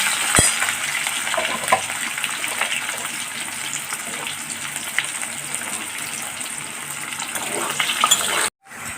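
Onions, partly ground to a paste, fry in a pan until golden for an Odia ghanta tarkari mixed-vegetable curry. A steady, close sizzle with crackling and stirring runs throughout, with a brief knock near the start, and ends in a sudden cut.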